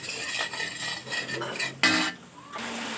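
A spoon scrapes and stirs masala with Kashmiri chili powder frying in a pan over low heat, with soft intermittent scraping and clinking strokes, one sharper knock near the middle, and no talk.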